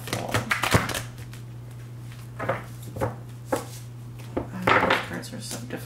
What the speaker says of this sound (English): Let's give these cards one more good shuffle.